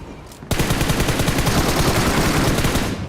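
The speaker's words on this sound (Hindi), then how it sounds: "वो बैठा उसके ऊपर फायरिंग करता है मेरे पे" Sustained automatic gunfire rattles loud and rapid in the BGMI battle royale game, a dense burst beginning abruptly after a short lead-in and continuing without a break for nearly three seconds.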